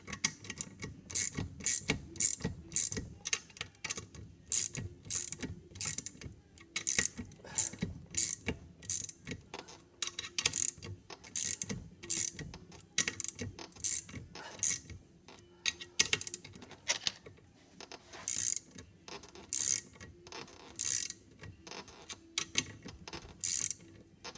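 Compressing tool in a Nieuport 11 aircraft build pulling a fitting tight, giving a steady run of rapid mechanical clicks and ratcheting ticks, close and fairly quiet, with no talking.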